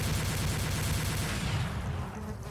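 Sustained gunfire from the Doom video game, a dense continuous burst of shots loud and close that thins out toward the end, with no talking.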